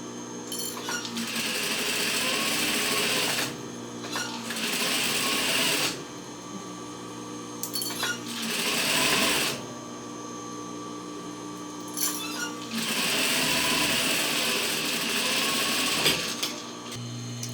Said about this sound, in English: Okay, so I sewed the 2 front pieces together